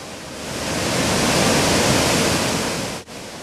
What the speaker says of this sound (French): Au bout du lac, nous sommes sur la cascade de Do Dang.